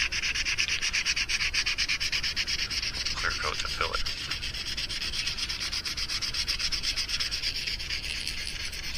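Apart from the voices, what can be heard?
sanding plastic lure with sandpaper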